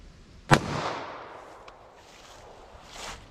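A single sharp gunshot from a .45 ACP pistol loaded with Hydra-Shok hollow points, fired into a clear ballistics gel block outdoors, rings out loud and close, then fades into a long rumbling echo.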